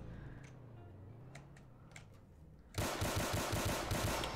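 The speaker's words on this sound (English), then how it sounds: "One more time, I'm shooting him." Rapid automatic gunfire from a Roblox sheriff patrol game bursts in suddenly and loudly partway through, a steady fast rattle of shots following a quieter stretch of faint ticking and background hum.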